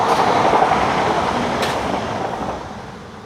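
A slower regional passenger train rushes by close, a loud steady roar with rhythmic rail clatter that slowly fades as it passes.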